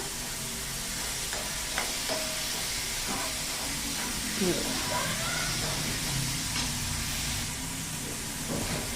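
Onion and curry leaves sautéing in a pan for a drumstick pod masala, a constant close sizzle and hiss with occasional stirring scrapes, a voice talking over it.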